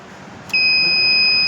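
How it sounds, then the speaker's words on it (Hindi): Pressure controller alarm on a high-pressure main line sounds a sudden steady electronic tone that starts abruptly and holds loud and continuous over a low background hum. "ये अलार्म आ जाएगा।"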